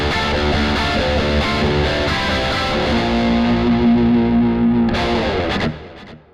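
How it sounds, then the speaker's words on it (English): Distorted electric guitar through a Mooer GE150Max with the rotary effect switched off. Dense chords are followed by a long sustained note and a few closing hits, then a quick fade. "at the end of the song I want to turn the rotary off but keep the same sound"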